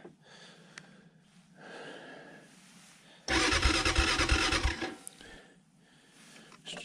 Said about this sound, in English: I'm gonna fire this thing up this morning and see if she'll roll this Honda